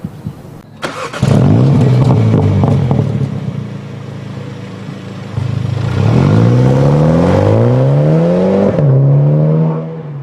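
A BMW M135i xDrive First Edition hot hatch starts up and pulls away, its engine loud and close, revving through rising and falling tones as it accelerates and shifts, with no talk.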